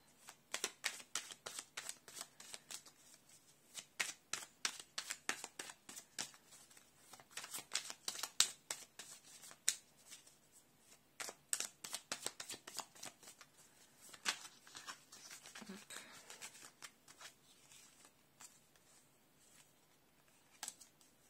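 Playing cards are shuffled and dealt in a long run of quick, crisp riffles and snaps, close and fairly soft, with no talk.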